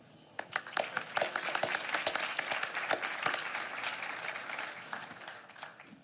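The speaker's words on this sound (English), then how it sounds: "How about a round of applause for our moderators?" Audience applause for moderators at a panel on clean energy projects with Indigenous participation, beginning with a few claps and swelling into steady, moderately distant clapping from a room of people, tapering slightly near the end.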